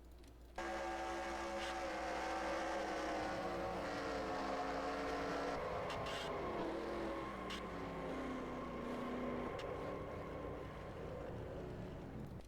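Stock cars lap the track in the NASCAR Racing 2003 simulator during a Coca-Cola 300 race, their engines a steady layered whine that rises and dips in pitch, faint and continuous with no talk.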